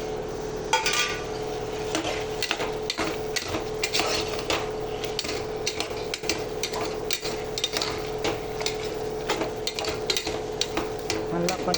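Masala with turmeric, chilli powder and peanuts sautés in a pan, a constant sizzle under frequent metallic scraping and tapping of a spoon stirring against the pan.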